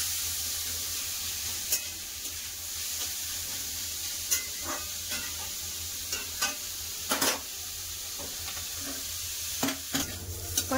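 Snake gourd fries with onion in a pan, giving a steady hiss and sizzle broken by scattered clinks and scrapes of stirring at close range, with no talking.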